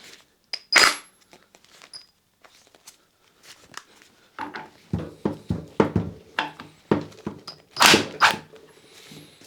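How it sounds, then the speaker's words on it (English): Impact gun breaking free the top section of a Yamaha FZ6 motorcycle engine in a workshop, heard as a series of sharp metallic rattling bursts and clunks, loud and close, with brief quiet gaps between them. "So I'm now going to break the top section free just using the impact gun."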